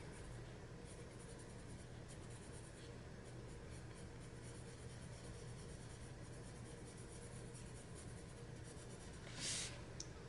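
Colored pencil shades on paper for a mystical potion bottle with bubbles, a soft continuous scratchy rasp of strokes under quiet background hum, with a brief brighter scrape near the end.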